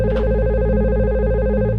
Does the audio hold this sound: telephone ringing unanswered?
yes